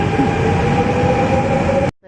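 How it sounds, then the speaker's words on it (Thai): A double-decker train in motion is heard from aboard as a loud, steady rumbling roar with a constant hum, close and unbroken until it cuts off abruptly. "อันนี้คือบรรยากาศบนรถไฟนะคะ"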